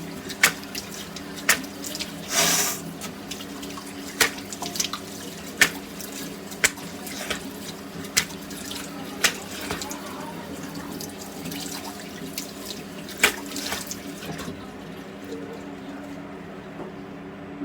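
Tap water runs steadily into a sink during face washing with soap, a soft continuous flow broken by scattered clinks and splashes.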